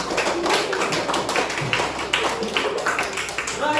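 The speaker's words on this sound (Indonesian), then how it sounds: "Kasih tepuk tangan." A class of children claps for a group of students in a Hindu religious education lesson, producing a brisk, uneven patter of hand claps that continues steadily, with some voices underneath.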